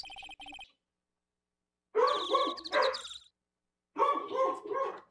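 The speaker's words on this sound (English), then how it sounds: "I'm so sorry about the dogs." Two bursts of excited barking from a pair of dogs reacting to the mailman in Phoenix Wright: Ace Attorney Trilogy, each lasting about a second, with a brief ringing tone before them and quiet gaps in between.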